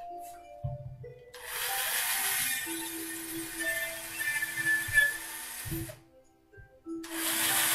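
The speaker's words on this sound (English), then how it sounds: "We also have 2 pilot holes here on the base, so we might as well drill those." A power drill whirs through pilot holes in a wooden crib base, two long bursts of steady whine with pauses between, close and moderately loud.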